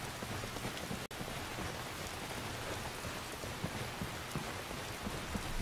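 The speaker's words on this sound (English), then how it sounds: "It's still raining." Steady rain pours in the video game Skyrim, a dense, even hiss of falling water with no break and no voices.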